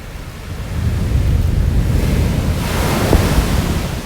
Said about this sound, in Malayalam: ഫോഴ്സിലാണ് വെള്ളം ഒഴുകുന്നത്